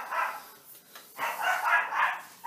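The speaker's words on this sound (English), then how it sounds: "There's that bloody yap yap dog going off again next door." A small dog yaps from next door in a series of sharp, high-pitched barks, slightly distant and moderately loud, with several quick bursts in a row.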